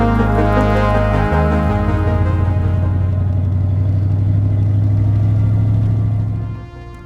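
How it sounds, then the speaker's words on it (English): A 25-year-old 4x4 pickup truck climbs a mountain canyon road, its engine droning loud and steady, with a gear change early on before the rumble settles and fades at the end. "I'm gonna tell you all about this old pickup truck."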